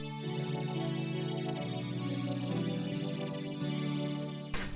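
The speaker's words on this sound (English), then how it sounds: "You can add a cello, sound like this with it." Organ with a cello stop added, sustained chords shifting every second or so, soft and steady, ending with a brief sharp sound.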